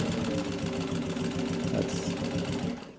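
A restored Singer 15-91 sewing machine stitches through two layers of edge tan leather, a loud, steady motor hum with rapid rhythmic needle chatter that runs continuously before tapering off at the end.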